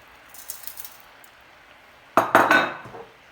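Bulgur poured into a metal cooking pot: a short rattling clatter of grains and metal after faint earlier clinks.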